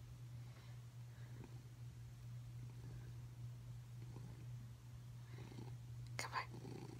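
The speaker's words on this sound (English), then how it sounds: "Baby cat." A kitten purrs softly and steadily right up close, a low continuous rumble with a faint hum beneath it, and a brief light rustle near the end.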